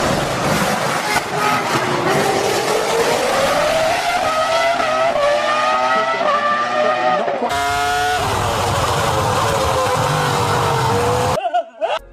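A V10 Formula 1 car of around 835 horsepower screams at up to 18,500 rpm, a loud, continuous high-pitched wail rising and shifting through gears before cutting off abruptly near the end.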